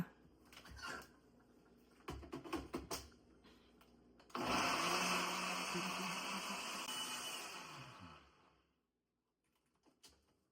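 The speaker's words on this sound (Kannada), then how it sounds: "ಸೊ ಇವಾಗ ಗ್ರೈಂಡ್ ಮಾಡ್ಬಿಡೋಣ ಇದನ್ನ" A kitchen mixer grinder blending high-protein breakfast ingredients runs loud and steady for about four seconds, then winds down, after brief clattering and handling knocks at the start.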